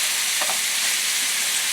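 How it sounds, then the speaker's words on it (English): Chorizo sausage fries loudly in a pan as a spoon breaks it up, a dense continuous sizzle broken by a few soft scraping stirs. "You can use the spoon. It's a little noisier, but I want to break this sausage up."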